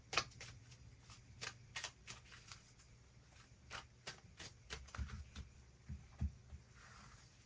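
Tarot cards being shuffled by hand, a rapid series of close riffling flicks and soft taps in uneven bursts, with no talking.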